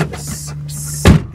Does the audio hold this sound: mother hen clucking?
no